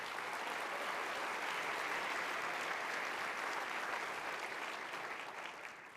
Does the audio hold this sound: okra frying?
no